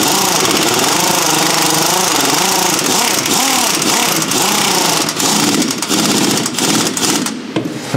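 A power tool drives a socket onto a nylon bolt while fitting air-ride suspension bags on a Fiat Ducato motorhome, giving a loud, continuous whirring and rattling buzz close by that wavers in pitch and cuts off near the end.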